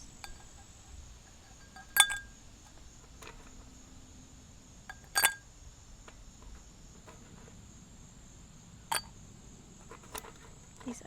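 Ice cubes clink against a pretty glass in a few sharp, separate taps, close and clear over quiet ambience with faint insect-like hiss.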